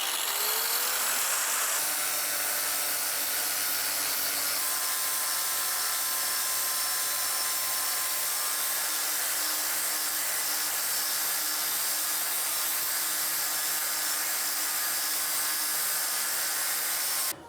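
Power saw cutting wooden planks: a steady, loud high-pitched whine that starts up and then holds continuously close by, with no talking.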